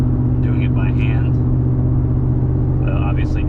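A car drives at about 55 mph after tie rod work, its steady low engine and road rumble filling the clip while faint voice-like sounds rise briefly above it at the start and near the end.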